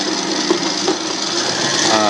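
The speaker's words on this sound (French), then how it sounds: "Alors, le robot évidemment c'est un robot pâtissier." A stand mixer beats dough for a kings' cake (gâteau des rois): a steady, dense whirring and rasping that stays constant and fairly loud throughout, close up.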